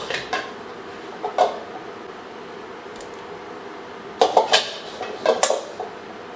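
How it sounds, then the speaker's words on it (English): Chunks of potato and root vegetables drop into a pot for Puerto Rican beef sancocho, giving a few scattered clinks and thuds against the pot's metal. Quiet stretches fall between the bursts, with no talking. "Ahora podemos echar las viandas a la olla y con una papa mediana cortada en trozos de una pulgada."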